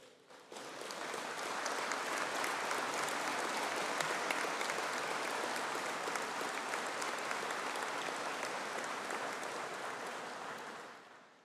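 Audience applause for engineering graduates at a university conferring ceremony in the Midlands, dense and sustained clapping that swells in, holds steady for about ten seconds and then fades.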